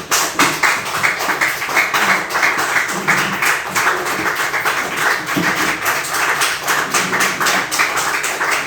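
Church congregation clapping together in worship, a loud, dense, continuous patter of many hands with a steady beat, close and filling the room, with faint voices underneath.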